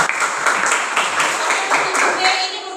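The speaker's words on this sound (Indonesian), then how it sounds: "Tepuk tangan dulu." Students clap together in an Indonesian classroom during a teacher's lesson, a dense burst of hand claps filling the room at steady loudness for a few seconds, with a teacher's voice faintly under it.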